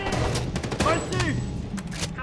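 Gunfire in the shooter game Homefront: The Revolution, a dense run of sharp shots rattling close by across the whole moment, mixed with game voices and busy battle noise.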